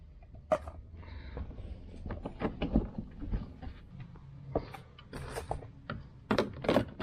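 Screws are driven into a carbon fiber duct on a GR Corolla, with close, irregular mechanical clicks, ratcheting and scraping of moderate loudness and several sharp knocks throughout.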